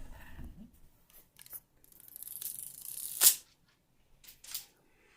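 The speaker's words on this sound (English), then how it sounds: "let me take this film off as well, so we'll get a little peel for you" Protective film is peeled off a Baseus 145-watt power block, close crinkly rustling and a sharp tearing rip, then a few faint plasticky taps in a quiet room.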